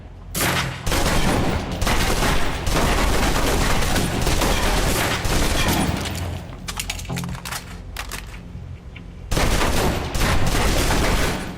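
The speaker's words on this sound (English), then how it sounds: "Now, let's move on to the submachine gun. Now let's empty the clip." Submachine gun emptying a full magazine in the video game Alpha Protocol: loud, dense sustained bursts of automatic fire with brief pauses, ending in a final burst.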